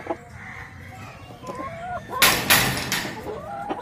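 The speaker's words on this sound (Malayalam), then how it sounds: "ഒരാൾ ഇതാണ്ട പൂവൻ കോഴി മേളിയിരിക്കുന്നു." A rooster perched in a chicken coop clucks and calls in short repeated bursts, building to a loud, harsh squawking flurry near the end, close and clear over low background noise.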